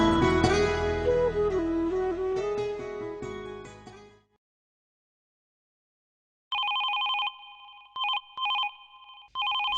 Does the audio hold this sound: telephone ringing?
yes